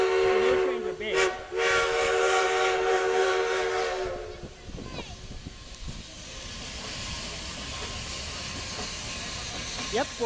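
Durango and Silverton steam locomotive 482 at a 2011 railfest sounds a long, loud steam whistle for about four seconds, then fades into hissing steam and rumbling train noise nearby.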